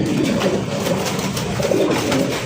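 A famous pair of pigeons give a continuous low cooing, close and fairly loud, in rolling pulses with no talk over it.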